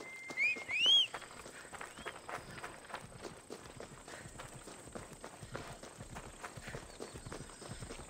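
Quick, steady clip-clop of horse hooves at a run in Assassin's Creed Odyssey, close and continuous, with a couple of brief high chirpy effects near the start.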